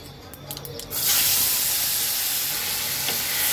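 Boiled green mango drops into a hot pan with turmeric and erupts into a loud, steady sizzle and hiss that continues unbroken for several seconds.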